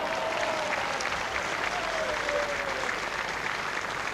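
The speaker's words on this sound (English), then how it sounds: "Big round of applause as the Paul Strutt campaign just regathers its forces" Spectators at a 1995 crown green bowls final give a steady round of applause after a shot, the clapping moderately loud and continuous with a commentator's voice faintly threaded through it.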